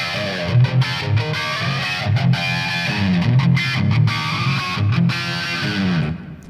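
Electric guitar played through flanger and phaser effect pedals on a pedalboard, loud and sustained chords with a sweeping, whooshing swirl and distorted edge, a few brief gaps between strummed phrases.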